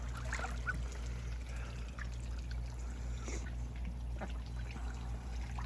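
Small ducks splash and bathe at a water hole, giving light trickling and pouring sounds with scattered splashes over a constant low hum, fairly faint and steady, with no talking.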